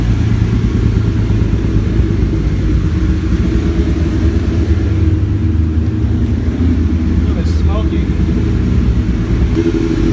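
Toyota Supra on the stock ECU idling while it warms up before tuning, a loud, steady, low engine rumble that holds unchanged from start to finish, close by.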